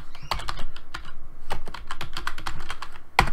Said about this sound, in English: I can type in the command MAME Arcade